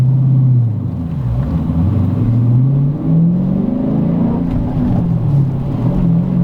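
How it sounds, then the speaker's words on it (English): A Dodge Challenger Scat Pack's big engine rumbles loud and close, its deep idle rising and falling in pitch through light revs, with no talk over it. "Like I know the engine is so big and so mean."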